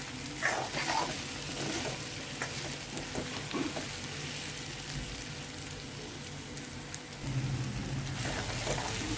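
Sliced onions fry in hot oil in a pan, a continuous close crackling sizzle with occasional scrapes and stirring clatter, no voices.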